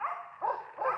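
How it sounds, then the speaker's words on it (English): West Siberian Laika dogs barking at a bear in the woods, three sharp barks in quick succession, moderately distant and alone. "so that's Bucha and Sever down there barking."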